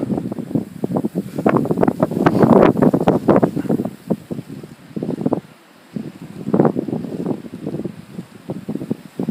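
Strong gusts of blizzard wind buffet the microphone in loud, rumbling bursts, briefly easing before roaring up again.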